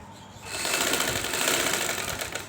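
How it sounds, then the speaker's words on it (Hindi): A sewing machine stitches along a fabric edge, starting after a brief pause and running as a fast, steady mechanical whir with rapid needle ticks, close and loud for about two seconds. "इसके किनारे पे लगाएंगे ये सिलाई"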